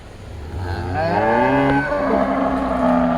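A cow on a dairy farm lets out a long, loud, close moo that swells and holds for a couple of seconds over low background noise.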